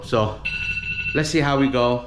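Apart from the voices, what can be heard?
alarm ringing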